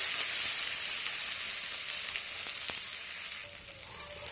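Curry leaves and dried red chillies fry in oil over a low gas flame, giving a steady close sizzle with a few faint clicks of mixing, easing slightly toward the end.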